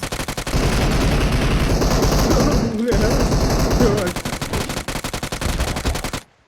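Rapid automatic gunfire from PUBG Mobile fills nearly the whole stretch, dense bursts at close range with a brief break near the middle, and voices mixed in beneath the shots.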